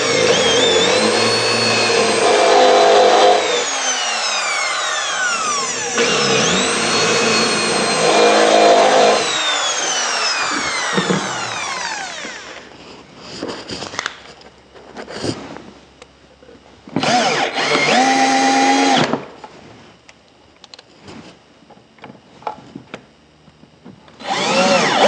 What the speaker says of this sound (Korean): 드릴로 구멍을 뚫고